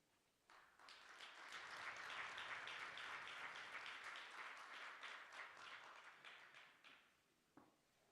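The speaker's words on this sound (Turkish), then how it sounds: "alkışlarınızla davet ediyoruz" An audience at the Turkish Presidential Culture and Arts Grand Awards ceremony applauds steadily for about six seconds, a dense even clapping that swells and then fades out.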